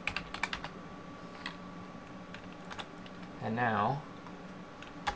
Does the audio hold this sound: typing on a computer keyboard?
yes